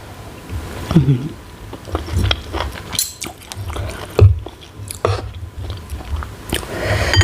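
Close, wet chewing and biting on Thai braised pork belly, a fatty three-layer cut stewed in five-spice gravy, with soft smacks and squelches coming in irregular bursts and short spoken remarks in between.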